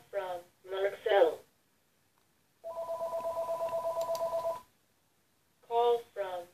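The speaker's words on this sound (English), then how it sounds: "Don't mind that, that's phone." A telephone rings with an incoming call in a steady, pulsing electronic tone for about two seconds. People talk just before and after the ring.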